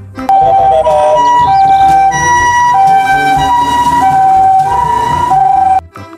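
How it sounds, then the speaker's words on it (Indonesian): An ambulance siren blares close and loud, alternating steadily between two tones before cutting off abruptly. "Ada mobil ambulan."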